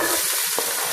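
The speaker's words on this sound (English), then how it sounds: "Then I'm going to fry some onions." Onions frying in a pot for lamb curry, a brief, steady close sizzle with a faint stirring scrape.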